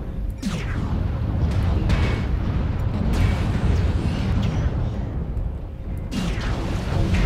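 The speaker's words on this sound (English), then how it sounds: "Warning incoming missile." Incoming missiles burst in a MechWarrior Online match, several rumbling booms and sweeping whooshes over a constant heavy mechanical drone, loud and close.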